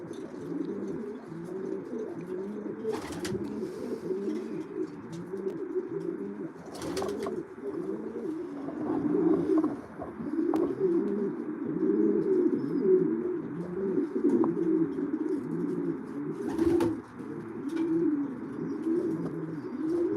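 Racing pigeons cooing in a loft, a dense, continuous layer of soft throaty coos from several birds close by, with a few brief sharper flutters or knocks now and then.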